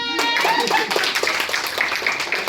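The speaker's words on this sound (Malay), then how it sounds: "Okey, bagi tepukan." Several people at a first aid training session clap together in quick, uneven bursts, close by, with a voice and talk mixed in.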